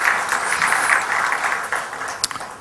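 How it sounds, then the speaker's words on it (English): Audience at a hotel panel discussion gives a steady round of applause, dense and even, fading slightly toward the end with a few louder claps. "We give a big round of applause"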